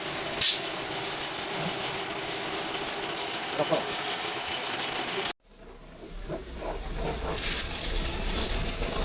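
An old tyre changer machine being spray painted in its original factory colour, a steady hiss of spray running continuously, cutting off briefly mid-way and resuming with faint clatter.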